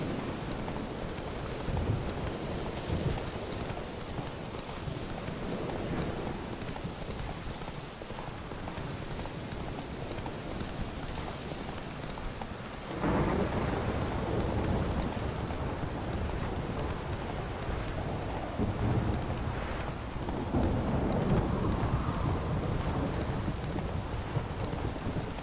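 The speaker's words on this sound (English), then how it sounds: "Sure is raining a lot." Steady heavy rain with low thunder rumbles in The Witcher 3, a dense continuous wash that swells louder midway, with horse hooves clip-clopping faintly beneath.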